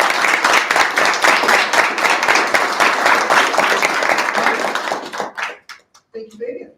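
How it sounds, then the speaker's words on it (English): Audience applause at a student government association meeting, a steady burst of dense clapping for about five seconds that tapers into a few scattered claps and a brief voice. "one more round of applause for the event"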